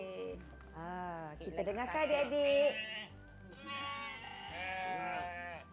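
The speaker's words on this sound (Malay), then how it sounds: "kambing. Ya. Betul tak Cikgu?" A goat bleats in several long wavering calls, loud and close, with a voice speaking in between.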